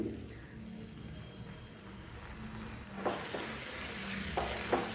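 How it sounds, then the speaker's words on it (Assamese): Ground spices sizzle and crackle in a hot pan, a soft steady fry with a few sharper stirring scrapes partway through. "এইখিনি এতিয়া ভালদৰে ফ্ৰাই কৰি ল'ম।"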